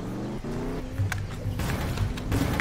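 In the Roblox game Mad City, a car engine drones loudly and steadily up close, a low rumbling hum with occasional clunks and knocks over it.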